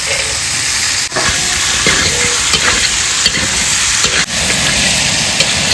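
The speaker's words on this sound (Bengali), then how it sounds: "মশলা কষানো হয়ে গেছে, এবার আলু ফুলকপিগুলো দিয়ে দেবো" Potatoes, cauliflower and peas sauté with spices in a pan, a loud, dense, continuous sizzle and hiss, with occasional stirring scrapes and a couple of brief dips in the noise.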